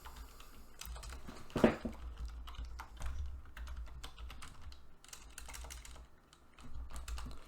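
Someone types a search on a computer keyboard, quick soft key clicks in an irregular rhythm with one louder tap, close by over a low background hum.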